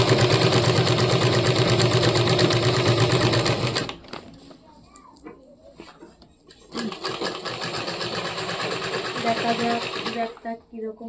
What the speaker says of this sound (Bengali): এই যে ডাইরেক্ট সোজা করে বসিয়ে এই যে এভাবে সেলাই করবো